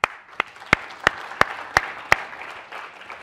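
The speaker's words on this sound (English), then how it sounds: "Actually, let's applaud them." At a university debate event, an audience claps about seven separate, sharp, evenly spaced claps over a few seconds, close and fairly loud, with faint room noise between them.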